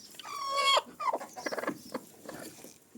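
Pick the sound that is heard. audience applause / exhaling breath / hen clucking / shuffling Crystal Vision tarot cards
hen clucking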